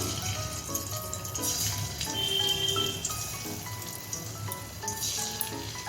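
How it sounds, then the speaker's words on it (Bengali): Eggs frying in hot white oil in a home kitchen, a continuous crackling sizzle with scattered pops, fairly close and steady, with no talking. "এখন আমি ডিমগুলো ভেজে নিচ্ছি"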